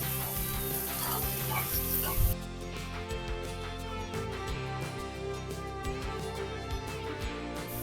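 Capsicum and finely chopped carrot are stir-fried in a pan, a steady close sizzle with soft stirring scrapes, someone talking over it and a low hum underneath.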